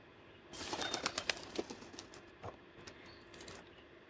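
Bird sounds from the video game A Bird Story: several short, sharp chirps and fluttering bursts in a quick cluster, then a few scattered fainter calls over a soft, steady game background.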